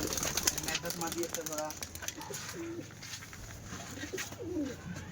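Giribaj pigeons cooing in a loft, several soft throaty coos repeating close by over a busy background of flutters and bird noise, with someone talking at times.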